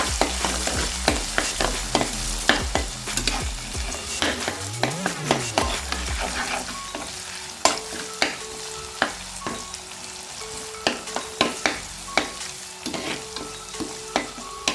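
Crushed ginger and garlic frying in hot oil as the base of a prawn curry, a steady close sizzle broken by frequent sharp scrapes and taps of a spoon stirring in the pan.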